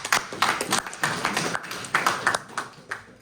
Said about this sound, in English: I want you to give yourself a round of applause for that, please